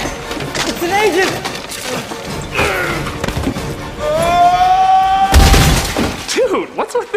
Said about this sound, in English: we finally have some gunfire